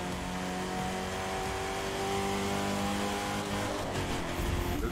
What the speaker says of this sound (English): The engine sounds mean.